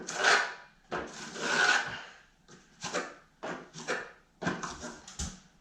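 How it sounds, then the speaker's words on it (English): A trowel drags drywall mud into a corner during a popcorn ceiling skim coat, a series of short raspy scraping strokes, close and fairly quiet, with brief pauses between passes. "I still have some mud that's on my trowel here, so I'm gonna go into the corner with it."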